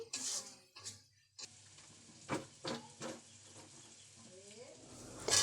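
Spices are cooked down in a pan for a potato and radish curry, with quiet stirring scrapes and a light sizzle, some faint chirping and voice-like sounds in the background.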